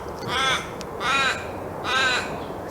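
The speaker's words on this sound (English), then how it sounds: "I've got a raven, an Australian raven flying around in my yard. It's doing his territorial thing." An Australian raven calls territorially in a backyard, giving three drawn-out, nasal, descending caws at even intervals, loud and close, with no talk.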